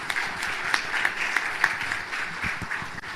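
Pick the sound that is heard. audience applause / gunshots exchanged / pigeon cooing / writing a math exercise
audience applause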